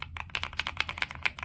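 Typing on a Kisnt wireless gasket-mounted mechanical keyboard with a creamy sound: a quick run of about a dozen close, muted keystrokes in an irregular rhythm, heard alone.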